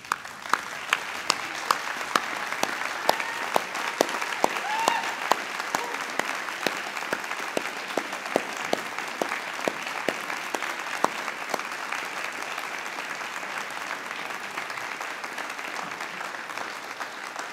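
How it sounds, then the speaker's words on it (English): A graduation ceremony audience applauds steadily throughout, a dense, even wash of many hands clapping in a large hall with no speech over it. "can I ask you to be upstanding and applaud your audience"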